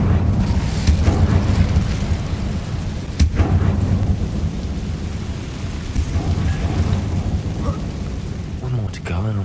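A rumbling, booming Incendio fire spell from the Hogwarts Legacy video game roars steadily for the whole stretch, with a sharp flare near the start and low crackling underneath, loud and close, with a voice faintly present.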